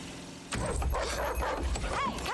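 A dog suddenly barks and yips in a horror film jump scare, a loud burst that cuts in abruptly after a quiet lead-in, with whimpering tones and faint talk mixed underneath.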